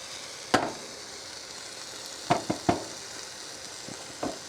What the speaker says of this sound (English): This meat is just boiling away in its own juices.